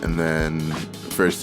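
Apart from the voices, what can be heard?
None of the usual background noises is heard.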